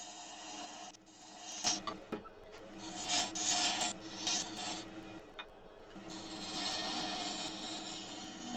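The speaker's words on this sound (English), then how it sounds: "use the 3/8 spindle gouge to actually shape the bottom of the pear" A 3/8 spindle gouge cutting a wooden pear held in a chuck on a lathe, giving a continuous rasping, scraping whir that swells and eases as the tool works, close with no talking.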